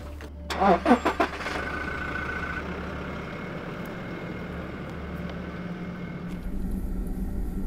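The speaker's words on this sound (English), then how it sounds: "We raced down the road to put an end to Andy's misery and found him about 10k back" A car speeds down a road through the Sahara Desert, with a short burst of clattering at the start, then a steady, close rumble of engine and road noise that lasts to the end.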